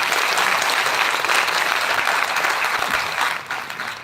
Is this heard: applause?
yes